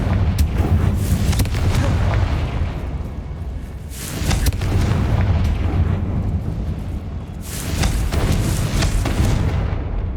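Blasting curse explosions in the Hogwarts Legacy video game, a few loud booming bursts with rumbling low-end roar, swelling and fading in waves over dense continuous game noise.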